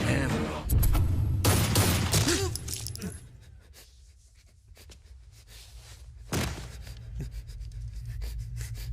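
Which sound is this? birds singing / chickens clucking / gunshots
gunshots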